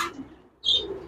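Afsan grizzle pigeons in a pigeon shop give a short, soft coo, with brief chirpy calls close by.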